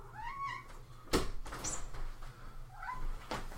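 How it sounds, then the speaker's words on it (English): A very vocal cat meows outside a door indoors, giving several drawn-out calls. In the middle comes a sharp knock or rattle from the door. The sound is moderately close, with no talk. "that is my very vocal cat who just doesn't like to be kept out of any room"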